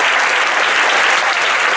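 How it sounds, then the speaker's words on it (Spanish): An audience at a book launch event in Mexico keeps up a brief burst of steady applause, many people clapping together at full volume with no gaps and no talking. "yo quiero que ustedes mismos se den un fuerte aplauso por estar aquí"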